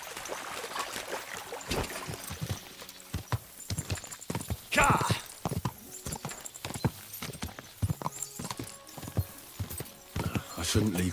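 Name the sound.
horses galloping in a video game, Kingdom Come Deliverance 2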